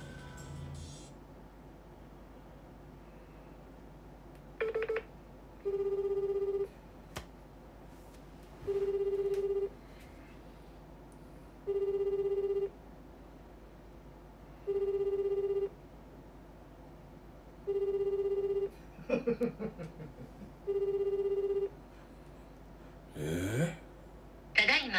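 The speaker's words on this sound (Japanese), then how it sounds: "電話 してみるか。" An outgoing phone call rings back in a steady repeating tone, six evenly spaced rings about three seconds apart, clear and close, with faint breathing and a few handling rustles around them.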